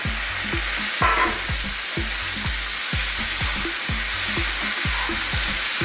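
Fresh tomatoes and beef frying for shepherd's pie, a loud, steady sizzle throughout with repeated scraping strokes of stirring in a fast, regular rhythm close by.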